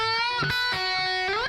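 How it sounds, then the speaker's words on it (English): Distorted electric guitar phrase from a solo, with a string bend on the third string followed by a quick pull-off; sustained overdriven notes bend upward alone, loud and close. "I'm doing a bend on 9 of the third string, and then a quick pull off from 12 to 7"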